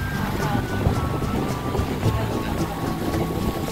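Strong wind buffets a boat on high water, a constant loud rush with microphone rumble and no break throughout.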